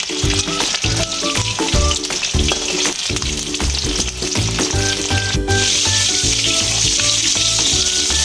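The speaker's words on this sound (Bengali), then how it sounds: "স্যাডেগুলো এবার আমি ভালো করে ভেজে নেবো।" Battered popcorn chicken satay pieces fry in hot oil with a loud, continuous sizzle, heard under steady background music throughout.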